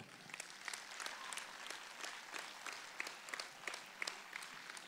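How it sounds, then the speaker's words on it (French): An audience applauds at a sports awards evening, a sustained wash of many hands clapping. It is faint and distant, with some sharper claps poking through. "on les applaudit très fort"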